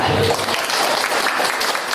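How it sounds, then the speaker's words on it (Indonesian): Church congregation applauding during a sermon, a brief loud spell of crowd clapping with a voice talking over it at the start. "Tepuk tangan yang redek, 2-3."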